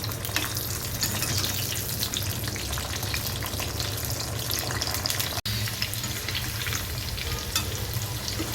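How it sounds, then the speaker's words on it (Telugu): Cut ivy gourd (dondakaya) pieces deep frying in hot oil, a steady dense sizzle with bubbling crackle throughout and a brief stir partway, no voices. "మనం ముందుగా కట్ చేసి పెట్టుకున్న దొండకాయల్ని ఆయిల్లో డీప్ ఫ్రై చేసుకోవాలి"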